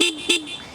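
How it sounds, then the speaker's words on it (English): Two short, high-pitched toots from a TVS Apache RR310 motorcycle horn, close and clear, separated by a brief gap. "horn check for the TVS Apache"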